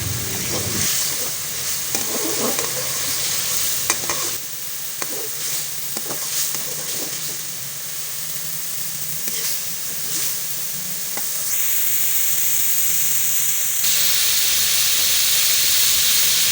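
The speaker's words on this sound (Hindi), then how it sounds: "मसाला भूनने में जल्दी ना करें, बल्कि इसको पूरा टाइम दें मसाले को" Masala frying in ghee or oil for fish korma, a steady close sizzle and hiss running throughout with intermittent stirring scrapes and clinks, the frying growing louder and brighter toward the end.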